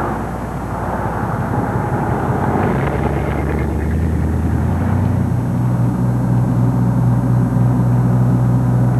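A 1980 transit bus pulls in alongside the curb, its engine a loud continuous drone with a low rumble that deepens and steadies into a sustained tonal hum as it draws parallel and settles.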